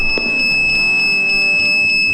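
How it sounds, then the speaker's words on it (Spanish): A loud electronic alarm in an Unreal Engine horror game blares continuously, a steady high-pitched tone with faint rhythmic pulsing, no voices. "Se comienza a disparar la alarma."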